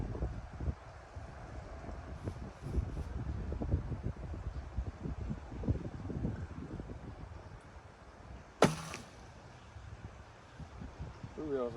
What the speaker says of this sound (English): The wind's blowing pretty bad